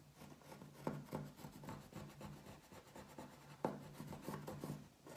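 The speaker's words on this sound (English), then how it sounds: "Make a mark at the top, make a mark at the bottom, and draw your line to connect the marks." Faint, steady scratching and rubbing of a pencil drawing a straight line on paper between two marks, with small uneven strokes and a couple of sharper scrapes, heard alone.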